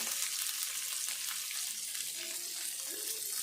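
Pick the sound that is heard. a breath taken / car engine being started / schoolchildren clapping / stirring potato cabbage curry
stirring potato cabbage curry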